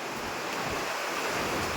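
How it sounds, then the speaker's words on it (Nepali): Steady rain falling close by, a dense, even hiss of drops with no gaps and no voices. "यस्तो पानी पर्दैछ"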